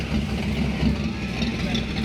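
A classic car idling at an outdoor car show, its low steady engine rumble running continuously at moderate distance, with crowd noise and chatter around it.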